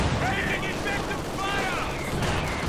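Artillery barrage in Company of Heroes 2 gameplay, a dense continuous rumble of shell blasts and gunfire running throughout, loud and steady, with a voice talking over part of it.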